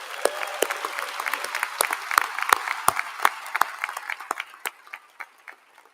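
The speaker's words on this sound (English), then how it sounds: "Let's give everybody a round of applause." A college commencement audience claps in a scattered round of applause, with distinct nearby hand claps standing out against the crowd, dense at first and then thinning to a few isolated claps.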